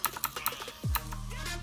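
Keys clacking on a new Redragon computer keyboard, a quick run of close, crisp taps followed by a low hum with faint clicks underneath.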